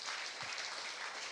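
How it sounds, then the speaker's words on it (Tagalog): A church congregation claps together for the Lord during a Filipino service, a dense, even wash of applause lasting a short moment with no voices over it. "Pwede ba bigyan po natin ang pinaka-the best sa palakpak"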